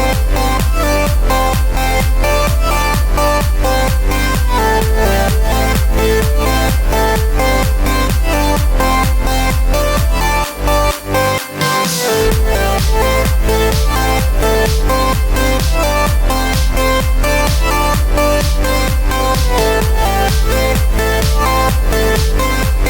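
A finished EDM track made in GarageBand plays loud and continuous, with a driving steady beat and layered synths, briefly dropping out for a short break before the beat returns.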